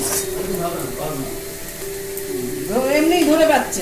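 Potatoes fry in a pan over a medium flame, a soft continuous sizzle running underneath a person talking, growing slightly louder toward the end.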